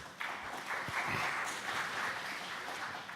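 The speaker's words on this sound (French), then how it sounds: "Cher Axel, vous avez créé une petite pause avec ces applaudissements." An audience at a multilingualism conference gives sustained applause, a dense, even clapping that rises quickly and continues at moderate loudness.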